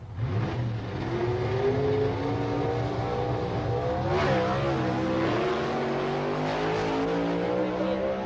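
A Holden Gemini drag car at the 1989 ANDRA Winternationals accelerates hard down the strip, its engine note climbing steadily in pitch through the gears, loud and sustained.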